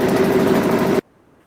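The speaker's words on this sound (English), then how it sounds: "So we brought the engine to 1500 RPM." A lab test engine running at 1500 RPM gives a loud, steady droning hum for about a second, then cuts off abruptly into near silence.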